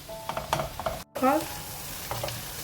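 Onions softening in a pan, sizzling softly while a utensil stirs them in short scraping strokes, with a brief silent gap midway; close and moderately quiet.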